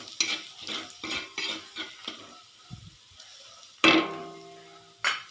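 Turmeric, salt and red chilli stir-fried in hot oil with a spoon, giving repeated scraping stir strokes over a faint sizzle, with a couple of sharper knocks against the pan.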